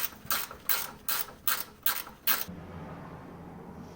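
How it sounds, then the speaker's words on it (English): A 15-inch ratchet gear wrench clicks through six quick, evenly spaced bursts while loosening the top bolts on an air shock of a 2007-2015 Ford Expedition, then stops, leaving a low steady hum. "I've got a little 15-inch gear wrench, ratchet wrench, box end thing. I'm going to go ahead and take these top bolts off on the air shock."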